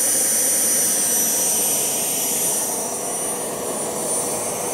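A homemade Kamps-design DIY jet engine burning kerosene on its first test run roars steadily and loudly at close range, a continuous broadband whoosh with a high whine on top and no talking.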